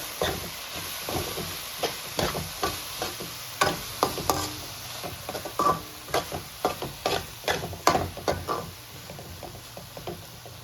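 Sambar chili powder is stirred into a frying pan with a steady run of scraping strokes, each a short rasp repeated at an even pace over a soft sizzle. No one talks.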